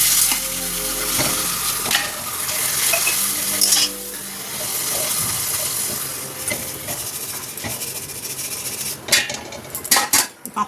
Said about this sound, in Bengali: এবার কড়াই দিয়ে দিয়েছি তেল, উচ্ছে ভাজবো, তার আগে কটা পাঁপড় ভেজে নিই।